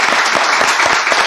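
A live audience bursts into spontaneous applause for Fabián Peralta, steady dense clapping filling the room from start to finish without a break.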